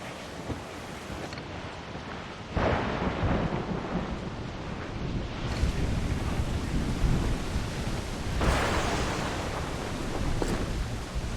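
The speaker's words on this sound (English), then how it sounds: "Storm there, Captain! Looks bad!" Heavy rumbling thunder rolls over roaring wind and crashing waves in a video game storm at sea (Assassin's Creed Black Flag), swelling in loud surges with no voices present.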